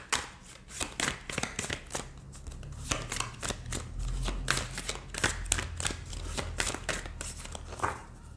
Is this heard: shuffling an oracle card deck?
yes